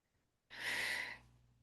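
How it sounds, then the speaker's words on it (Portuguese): A person takes one long audible exhalation, a breathy sigh that starts abruptly and trails off, close and alone in a quiet room. "Respirando"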